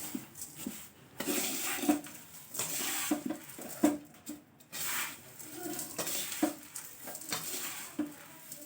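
Thin poha chivda is tossed and stirred in a pan, giving soft scraping and rustling strokes in an uneven rhythm, close and fairly quiet.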